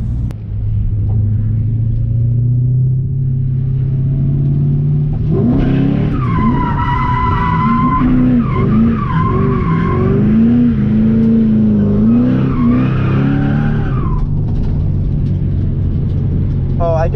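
A car at a drift event idles with a loud low rumble, then revs up and slides with sustained, wavering tire squeal for several seconds before easing back, heard from close by inside or beside the car.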